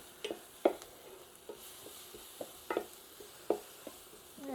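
Onions fry gently in a pan for Swedish meatballs, a quiet background sizzle broken by several sharp scraping stirs of a utensil against the pan.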